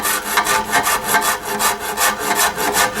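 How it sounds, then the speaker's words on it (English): A number 49 cabinet maker's rasp files wood in quick, even back-and-forth strokes, about a dozen rough rasping passes in a steady rhythm, close and alone. "I can come in with a number 49 rasp, which is cabinet maker's rasp"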